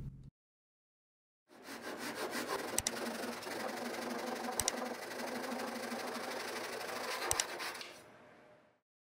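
A hand saw cuts a 45-degree miter through wood in steady, rapid back-and-forth strokes, close and fairly loud, running continuously for several seconds before stopping.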